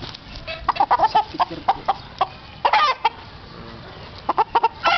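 Chickens cluck in short bursts, several birds close by, with brief pauses between calls and no talking.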